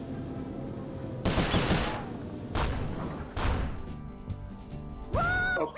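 Gunfire in the video game Sly Cooper: Thieves in Time: a few loud, separate bursts of shots with gaps between them, ending in a squealing, rising game sound.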